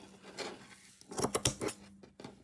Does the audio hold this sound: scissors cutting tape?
yes